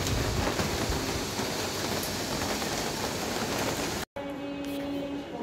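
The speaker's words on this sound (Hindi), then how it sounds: "देखिए धीरे धीरे बारिश स्टार्ट हो गई है।" Steady rain falls on a weekday afternoon, a dense even hiss of drops on surfaces heard close, broken by a brief cut before continuing more softly.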